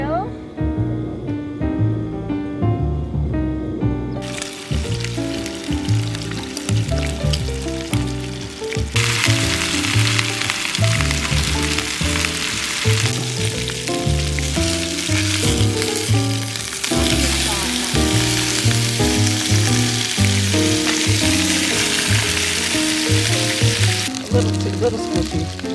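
Olive oil sizzles steadily in a pan on a gas stove, a continuous hiss that swells louder after the first few seconds and runs under a prominent layer of music.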